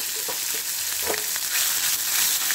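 Finely chopped onion hits hot oil in a pan with cumin seeds and bay leaves, giving a steady, loud crackling sizzle that runs continuously throughout with no talking.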